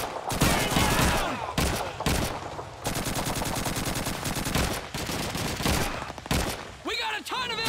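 Sustained suppressing gunfire in Call of Duty 2's World War II US campaign, with rapid machine-gun rattles and rifle shots firing almost nonstop, loud and close, over a battlefield din.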